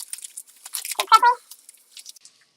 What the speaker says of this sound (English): so do about 10 seconds of crumpling paper.